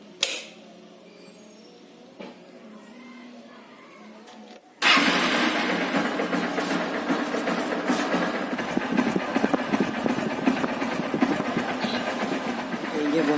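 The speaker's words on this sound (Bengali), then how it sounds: "ইঞ্জিন সাউন্ডটা তোমাদেরকে দেখাবো। দেখো কিচ কিচ একটা শব্দ হচ্ছে।" A Honda X-Blade motorcycle engine with a reported squeaking fault runs steadily and loudly after a quieter stretch with talking, a rough continuous mechanical drone with a faint repetitive high-pitched chirp.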